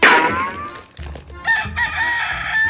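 A rooster crows loudly and close by, a long ringing call that rises and then holds, with a second, softer crowing phrase following.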